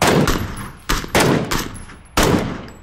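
Close, loud gunfire in PUBG aimed at a buggy: several rapid bursts of automatic fire separated by brief gaps, with no talking.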